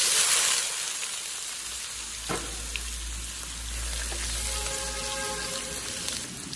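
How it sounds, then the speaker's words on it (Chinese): Spring bamboo shoots, drained of water, sizzle and fry in hot lard and oil in a wok, a steady crackling hiss with a few brief clinks of a utensil; no one speaks. "油热之后我们下入沥干水分的春笋给它煎一下"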